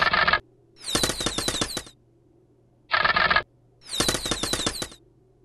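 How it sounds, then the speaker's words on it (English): Archers loose volleys on infantry in a Pocket Lords battle: rapid clattering bursts in two matching pairs, each a short sharp rattle followed by a longer crackling flurry, with silence between. "my infantry is taking a lot of fire from their archers"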